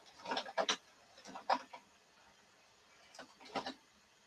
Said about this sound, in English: You'll hear the printer jarring up and doing what it's doing.